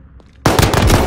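A frag grenade detonating in the Warzone video game: a sudden loud, close blast after a quiet moment, followed by a dense, rattling burst of crackling debris and gunfire-like echoes.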